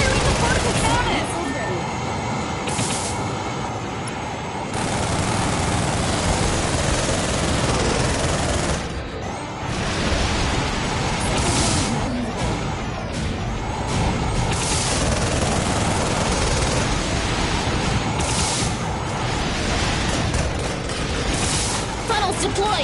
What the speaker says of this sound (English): Evade! He's firing the particle cannon!